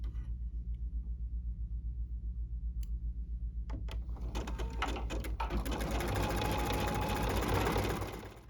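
A Viking Ruby 90 sewing machine stitches a patch with appliqué design, its steady motor hum sounding close and continuous, picking up to a busier, louder whir before stopping abruptly.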